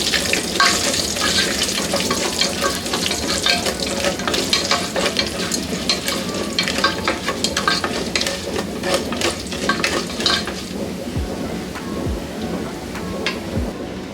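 Urad dal and other tempering ingredients sizzle and crackle steadily in hot oil for lemon rice, a dense, loud frying hiss with scattered pops running throughout, no voices.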